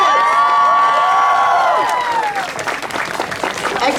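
A crowd applauds and cheers for a girls' high school swim team at a senior night ceremony, with broadband clapping throughout. Loud whoops and shouts ride on top early and fade into steady applause.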